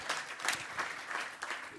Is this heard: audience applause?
yes